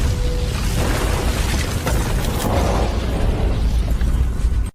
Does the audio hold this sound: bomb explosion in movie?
yes